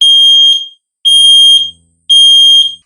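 A ZEN smoke alarm set off with its test button gives three loud, piercing beeps about half a second long, evenly spaced with short silent gaps.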